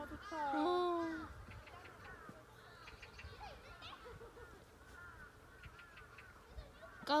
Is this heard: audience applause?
no